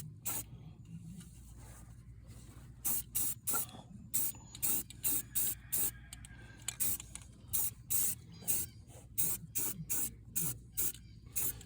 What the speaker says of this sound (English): And I'm just using Ultra Matte Black, 2x cover, really good stuff by Rust-Oleum.